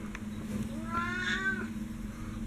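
A single drawn-out cat meow, fairly close and moderately loud, over a constant low electrical hum.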